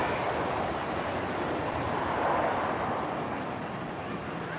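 A low Ryanair airliner on final approach at Birmingham Airport roars loud and close, a steady broadband rush of engine and air noise that holds for the whole stretch with no talk over it.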